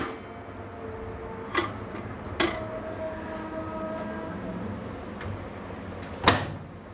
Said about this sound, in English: I will stop this and open the oven, and I will put this wire rack